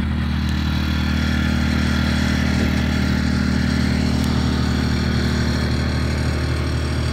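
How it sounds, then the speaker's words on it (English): A portable generator runs at the back of a car set up for car living, giving a steady, even low engine hum and drone that holds unchanged throughout, moderately loud and close. "the generator's running on the back"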